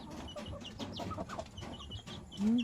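Chickens clucking softly at close range amid a busy farmyard background, with a louder drawn-out cluck near the end.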